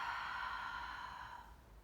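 A single long exhale during a slow, relaxing yoga flow, a soft steady breathy rush lasting nearly two seconds and fading gently at the end, close and alone with no talking.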